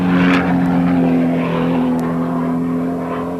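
Race cars pass on a track during the One Lap of America event, a Corvette ZR-1 among the field, with a loud, steady engine drone and tire noise that fades slightly, no talk.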